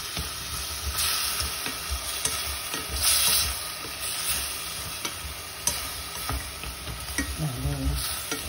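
Pork stir-frying with oyster sauce in a hot pan, a steady close sizzle with stirring scrapes and occasional sharper spatters throughout, no talking.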